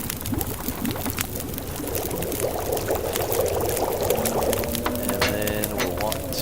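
A steady liquid rush and pour-like wash of water being boiled in The Long Dark, holding even throughout, with a voice speaking over it.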